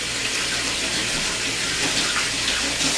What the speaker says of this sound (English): And let's rinse this out.